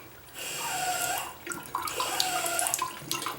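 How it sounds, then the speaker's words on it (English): A bathroom sink faucet with a leaking handle runs water, a steady close rushing stream that shifts in pitch as the flow changes, with no talking. "Let me turn the water on all the way"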